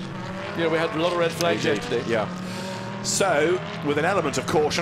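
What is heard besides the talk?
racing bikes heading out onto the track for qualifying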